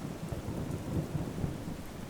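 A thunderstorm with rain serves as a horror-story sound effect, giving a steady wash of rainfall with a low rumble of thunder running throughout.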